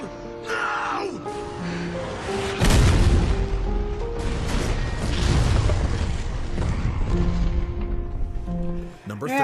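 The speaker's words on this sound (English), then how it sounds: "hijacked a truck to drive into a fuel tanker" A heavy boom erupts as a hijacked truck slams into a fuel tanker in a video game cutscene, followed by rumbling fire and debris under dramatic music and shouting voices.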